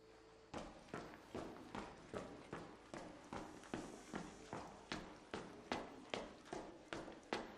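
Steady run of heavy footsteps in Arc Raiders with night mode enabled, about fifteen evenly paced thudding steps, close and loud, each with a sharp crunchy attack, over faint background ambience.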